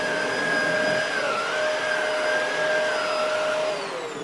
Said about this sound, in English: vacuuming just like this.